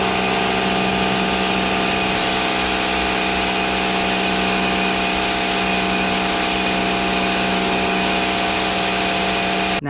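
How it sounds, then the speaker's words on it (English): A Bosch Aquatak 110 pressure washer with its standard head runs loud and steady, a constant motor and pump drone that stays close and unbroken, then cuts off right at the end. "now I've got the Bosch one with the standard pressure washer head"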